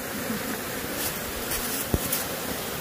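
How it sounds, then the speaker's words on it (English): Honeybees buzz around outdoor hives, a dense continuous drone of many insects close by, steady in level with a couple of brief louder passes and a faint knock, and no one speaking. "I thought I heard a lot of buzzing right here"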